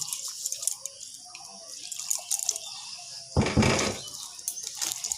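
A little water is poured into a bowl while cooking, one short splashing pour after soft drips and small kitchen clatter, close and brief.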